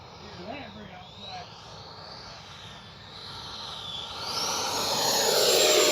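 An FMS 80mm F-86 Sabre RC jet builds to takeoff, its ducted-fan whine swelling from a low hum into a loud, rising roar, with voices talking over it.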